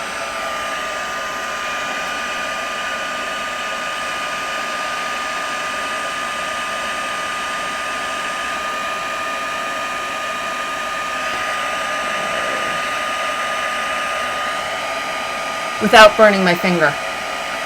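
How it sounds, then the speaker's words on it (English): A heat embossing tool blows hot air over craft snowflakes in a constant, even whir that holds steady throughout; a voice speaks briefly near the end over a few sharp handling clicks. "we're going to heat emboss all these snowflakes"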